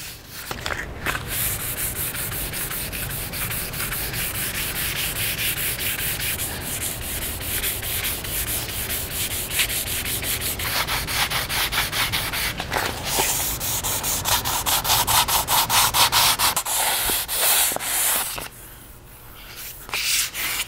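Hand sanding of a fiberglass boat surface with 400-grit sandpaper makes a steady, close, rhythmic back-and-forth scratching that continues for about twenty seconds, briefly pausing near the end.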